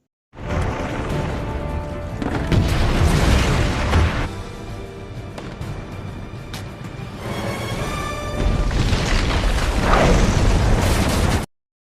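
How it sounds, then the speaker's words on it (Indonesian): Loud, chaotic movie action sounds with gunfire, booming explosions, sharp bursts and crashes layered over a dramatic background, intensifying in waves. "Pertarungan yang diwarnai dengan rangkaian tembakan dan ledakan pun terjadi dengan begitu epiknya."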